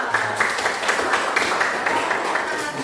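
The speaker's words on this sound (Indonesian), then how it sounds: "Oke, berikan aplaus." A classroom group gives a round of applause: a dense, continuous patter of many hands clapping at moderate loudness, with faint voices mixed in.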